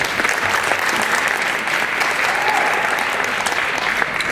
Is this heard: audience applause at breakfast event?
yes